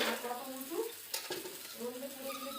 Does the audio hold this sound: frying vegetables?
yes